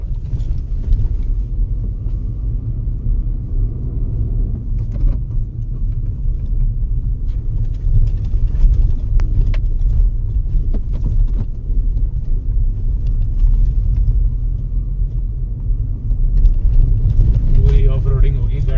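Car climbing a deep slant off-road at night on the Morni Hill route to Tikkar Taal, its engine a steady low rumble that swells near the end, with people talking over it.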